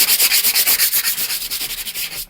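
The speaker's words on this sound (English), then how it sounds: "So I took sandpaper like this," Sandpaper rubbed back and forth over a painting in an artist's studio, a quick rhythmic series of about twenty close scratchy strokes, loud and alone.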